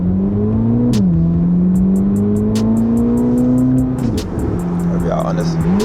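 Exhaust of a 1064 hp Corvette C8 ZR1 in downtown Chicago: a loud, close, deep engine drone that rises and dips with the throttle, with brief shifts and rhythmic ticking over the top.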